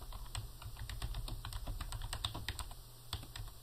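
Rapid, steady typing on a computer keyboard, close and clear, with dense irregular key clicks running throughout and no voices.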